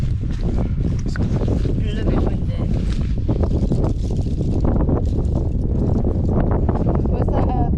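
Strong wind on a tidal island in South Wales, roaring continuously into the microphone with loud buffeting gusts throughout and no break.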